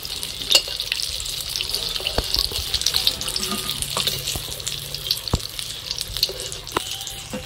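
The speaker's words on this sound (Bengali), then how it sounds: "এখন বাকি চপগুলো ভেজে নেব একই রকম ভাবে।" Stuffed ash gourd chops sizzle steadily in hot oil, a close, continuous frying hiss with scattered small pops and occasional clinks of a utensil.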